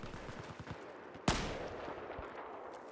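A single loud, sharp gunshot from the video game Battlefield 4 cracks out midway through steady background game noise, with no talk.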